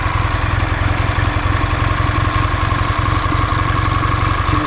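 A Ural motorcycle engine fitted with Dellorto 28 mm carburetors runs steadily at idle, loud and close, with an even rapid knocking pulse and no talk over it.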